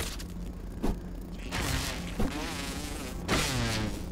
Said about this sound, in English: Oh, it's mosquitoes.